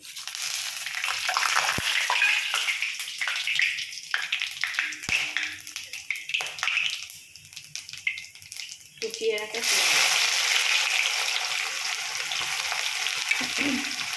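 Whole garam masala spices, two dried red chillies, bay leaves and cumin seeds crackle and sizzle in hot oil, a bright hissing fry that dips partway and then surges louder, with someone talking over it.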